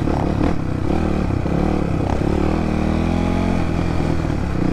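A Crossfire motorcycle engine runs loud and close on a first ride, a steady throbbing roar whose pitch climbs as it revs, with some rattling clatter.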